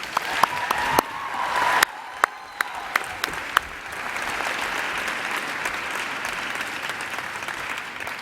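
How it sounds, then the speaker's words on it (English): Applause from a board meeting audience for recognized students, a sustained wash of clapping with a few sharp louder claps early, settling into steady mid-level applause without speech. "Let's give all these students another round of applause"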